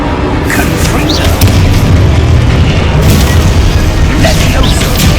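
Confringo blasting spell exploding in the Hogwarts Legacy video game, a loud, dense boom with a sharp burst near the start of a sustained roar, amid continuous battle noise and other spell effects.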